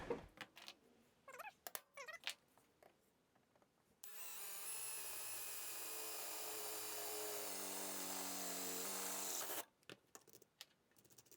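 A power drill bores a hole through the sheet-metal floor of a 1975 VW Rabbit, a steady whining grind lasting several seconds between quieter scraping and handling noises before and after.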